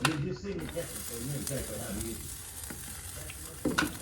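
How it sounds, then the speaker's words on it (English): Leftover rice heating in a hot pan hisses and sizzles steadily, with a few stirring scrapes, while a person talks over it at the start. "Let's heat up this rice a little bit."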